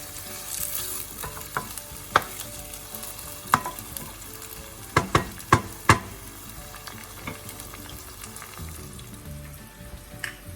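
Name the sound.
tomatoes sizzling and being stirred in frying oil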